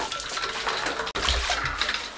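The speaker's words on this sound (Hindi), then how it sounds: "बेहतरीन रिजल्ट के लिए हम इसको ठंडे पानी में धोएंगे" Coriander leaves being swished up and down in a bowl of cold water, a steady close splashing and sloshing with a brief break midway and no talk over it.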